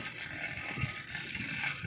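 Old, loose nuts and bolts on a touring bicycle rattle and clatter steadily over a rough, badly damaged road, a close, continuous jittery mechanical chatter.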